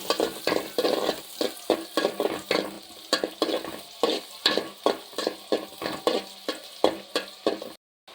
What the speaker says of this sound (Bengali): একটা হাইলের ভিতরে একটু তেল দিলাম, তেল গরম হয়ে এলে আপনারা কদ্দুর হাইজ দিয়েন